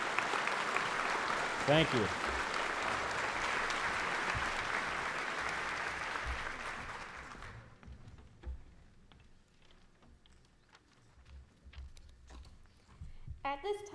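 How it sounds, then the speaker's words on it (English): Students standing at a high school senior assembly get a full round of applause from the audience. The clapping rolls on for several seconds, then tapers off into quiet room sound, and a voice speaks briefly near the end. "If we could have a round of applause for them."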